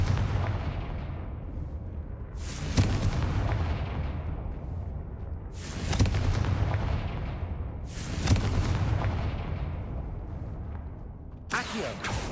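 Confringo spell blasts go off in the Hogwarts Legacy game, four heavy booming explosions spaced a few seconds apart, each a sharp burst that decays into a long rumbling tail, loud and close.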